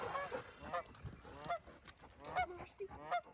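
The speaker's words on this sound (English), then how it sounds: "The geese are coming for you." Geese honk by a lake in Umatilla National Forest, several loud, nasal calls overlapping at moderate distance against outdoor background noise.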